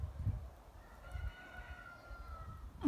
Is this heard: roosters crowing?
yes